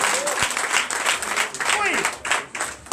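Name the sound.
congregation applauding in church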